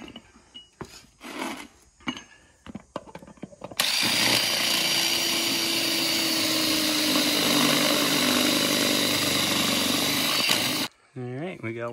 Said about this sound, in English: So I'm gonna get this one drilled, that one drilled, pump them up with a lot of air